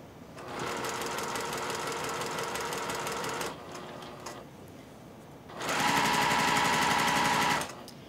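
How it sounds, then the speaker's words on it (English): A sewing machine joins quilt rows together in two loud, steady bursts of rapid stitching separated by a quieter pause with lighter handling sounds. "We're going to sew our rows together."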